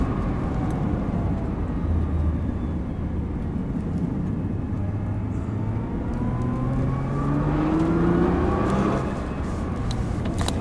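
A Nissan GT-R accelerates hard on the Dreux race circuit, its engine droning loud and close for the whole stretch, with the pitch climbing steadily through the gears over a constant roar of road and wind noise.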